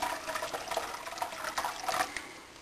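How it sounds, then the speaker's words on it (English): Coagulant poured into warm soy milk for homemade tofu gives a soft, continuous liquid trickle with small splashy bursts, fairly quiet and close, slowly tapering toward the end. "now I'm going to pour about 3/4 of the coagulant in there"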